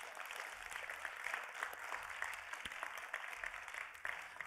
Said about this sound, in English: One more round of applause for speakers.